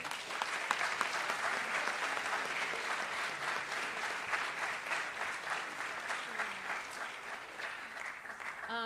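Students and families at a high school senior assembly clap for National Honor Society seniors, a fairly soft, even patter of many hands that holds steady, with faint voices toward the end.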